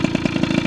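Tuned Ciao moped with an E8 two-stroke engine and Simonini expansion chamber exhaust runs steadily on its first start, a loud, close, rapid pulsing idle with a regular rhythmic beat and no talk.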